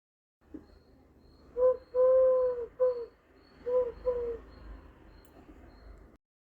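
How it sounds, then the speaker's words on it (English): Pigeons cooing in a run of wild animal calls, heard as a series of soft, tonal hooting coos rising and falling in short phrases over a low background hum, with no talking. "Pigeons coo."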